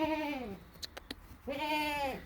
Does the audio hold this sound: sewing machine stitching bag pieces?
no